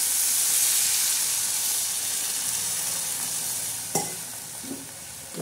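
Steady hissing sizzle from a hot pan of upma after water is added, with a couple of sharp utensil knocks and scrapes toward the end.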